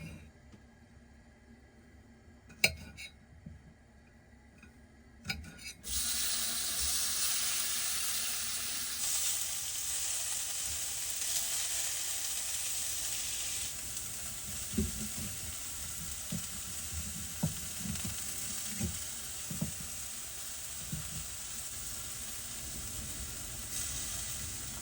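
Food frying on a propane stove inside a vintage truck camper, a steady close sizzle that starts abruptly after a few quiet seconds and continues with occasional pops and clinks.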